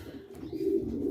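A racing pigeon hen coos in a soft, low, continuous murmur, close by and alone, lasting about a second.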